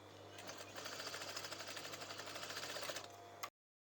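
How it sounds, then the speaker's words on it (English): A sewing machine stitching a hem along overlocking on a remade garment, running at a steady fast rhythmic whir for about three seconds before stopping abruptly, fairly quiet and close. "I'm stitching in the centre of the overlocking at this point"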